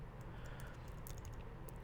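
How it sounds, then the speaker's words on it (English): Computer keyboard keys are pressed in a few faint, scattered clicks over a low background hum, with no voice. "So I'm just going to hit R on my keyboard."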